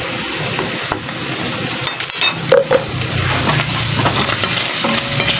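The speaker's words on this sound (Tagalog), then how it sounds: "Haluin natin. Yung ating pang-burger steak sauce." Burger steak sauce is stirred in a pan, a loud continuous sizzle with scraping strokes and a few metallic clinks of utensil on pan.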